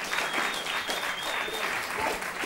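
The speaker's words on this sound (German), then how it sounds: "Das ist dein Applaus!" A studio audience at a car-themed TV show semifinal applauds loudly and continuously, a thick wash of clapping with a faint crowd murmur underneath.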